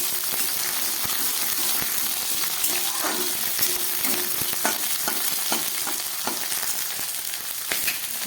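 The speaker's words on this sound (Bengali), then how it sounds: "খুব ভালো করে আমি ঢ্যাঁড়সটাকে ভেজে নেব।" Okra frying in an oil-filled pan for a vegetarian curry, a steady, close, continuous sizzle with light crackles and occasional stirring clicks.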